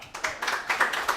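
Scattered claps from a small audience at a boys' lacrosse team gathering, a short patchy burst of applause with a handful of hands clapping unevenly.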